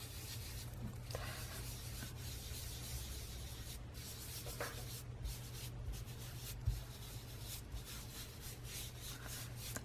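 Ink colour rubbed off onto scrap paper before a die cut inlay craft, heard as a soft, steady scratchy rubbing close by, continuous with slight irregular strokes and no talking.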